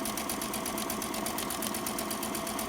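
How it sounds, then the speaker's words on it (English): A sewing machine stitches a hem on a Christmas appliqué pillowcover: a steady, close, unbroken whirring with a fast mechanical pulse throughout, with no voices. "When I start to stitch, I'm going to back stitch"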